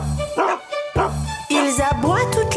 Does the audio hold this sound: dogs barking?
yes